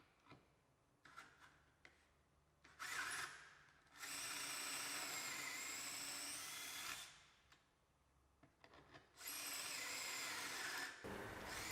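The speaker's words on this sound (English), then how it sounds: "Simply drill through the drilling jig's sleeves as required." A power drill bores through a drawer front panel via the sleeves of a Practica drilling jig, two sustained drilling bursts separated by a pause, with lighter handling and rubbing noises in between, close and clear.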